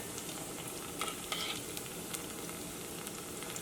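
Bread samosas fry in hot oil with a constant fine sizzle and occasional faint crackles and pops, steady and close, with no voices.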